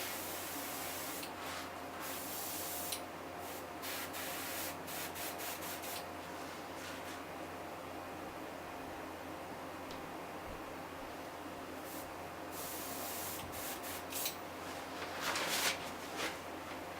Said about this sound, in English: a little bit of paint goes a long way when you're airbrushing